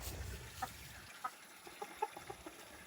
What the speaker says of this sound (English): Chickens have been jumping up and eating every tomato they can possibly get.